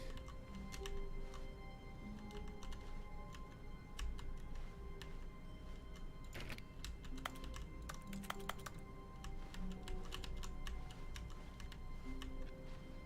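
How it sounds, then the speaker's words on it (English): Faint clicks in the video game The Stanley Parable, a few sharp, scattered ticks over a steady low hum and quiet sustained tones. "So clicking makes a noise when I actually click."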